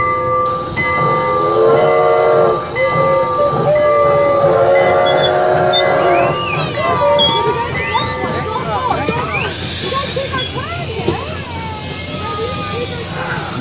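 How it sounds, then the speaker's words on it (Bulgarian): A train rolls past in the Old Port of Montreal, Quebec, with squealing, screeching wheels and a long rumbling wash of noise, while people talk over it. "пътешествениците продължават с влак"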